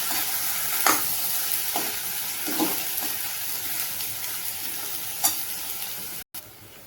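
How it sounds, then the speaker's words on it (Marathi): Peas, brinjal and potato stir-fried in a pan sizzle steadily while a spatula scrapes and tosses them in several distinct strokes, close and fairly loud, with no talk. "आता वाटाणा, वांग, बटाटा टाकते। आता हे सर्व मी छान असं परतून घेते बघा।"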